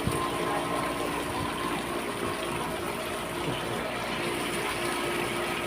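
Shower spray during seaman training, a continuous hissing gush of water running steadily and close throughout, with no speech.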